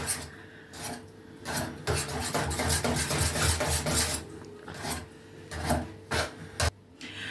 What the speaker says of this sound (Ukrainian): Так, два яйця. Попробуємо вінчиком. О, все гарно вимішую.